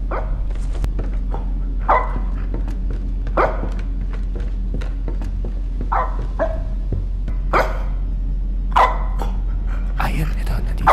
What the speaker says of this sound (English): Kumakahul na naman si Doggy Style Style.